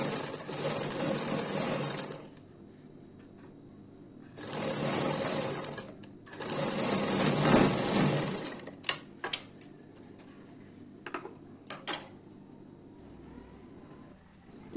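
Sewing machine stitching a neckband onto the front of a blouse, running in two long steady bursts followed by short stop-start taps of the needle, close and clear with no talking.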